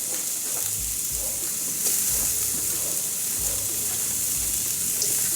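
A finely chopped medium onion fries in a teaspoon of oil with mustard seeds for a long bean stir fry, giving a continuous close sizzling hiss with faint low bumps, steady throughout and without speech.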